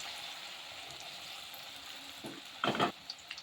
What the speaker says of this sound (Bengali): আমি অল্প অল্প করে এটা ভালো করে ডিপ ফ্রাই